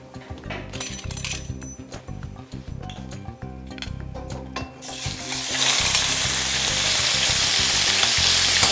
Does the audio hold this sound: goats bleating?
no